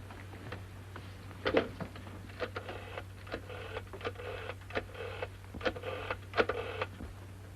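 A 1936-era telephone is dialed to ring Whitehall 1212, giving a run of short mechanical clicks and whirring bursts in an irregular rhythm over a steady low hum, close and moderately loud with no talking.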